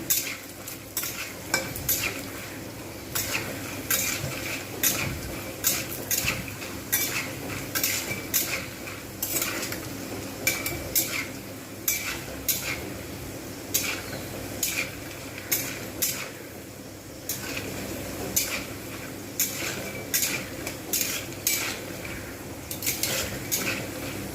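A metal spoon stirs and scrapes a pan while oil sizzles steadily as part of egg pasta cooking, with close, repeated clinks and scrapes over a continuous frying hiss and no voices.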